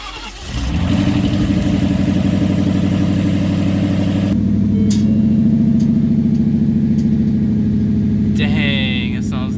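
A 2016 Ford Mustang GT, rebuilt after a crash, cranks and fires up, then settles into a loud steady rumbling idle with a brief rev, close by and alone.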